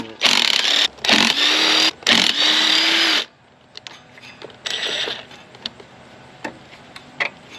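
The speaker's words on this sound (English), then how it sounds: "gonna take out this power steering pump. You got, it looks like 3 bolts, 13mm" A hand ratchet loosens the 13mm bolts of a Jeep TJ power steering pump: three loud bursts of rapid clicking come first, then quieter, scattered clicks and faint knocks, with no talking.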